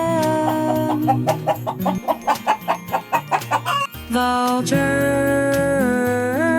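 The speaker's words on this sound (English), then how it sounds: "hen" A hen clucking in a quick rhythmic series of short, even pulses over a light children's tune, with the music continuing on its own afterward.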